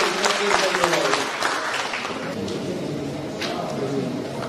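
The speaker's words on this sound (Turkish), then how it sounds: "Evet, çok güçlü bir alkış" Sustained applause fills a hall at an association's general assembly: a steady, dense wash of many hands clapping, with a voice speaking faintly through it.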